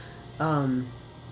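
A single short meow from a cat, clear and close, rising then falling over a quiet background hum in a Kingdom Hearts Union X session.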